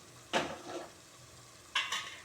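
A spoon scrapes through tomato garlic thokku sizzling in oil in a pan, two short stirring strokes over a steady faint frying hiss, close and quiet.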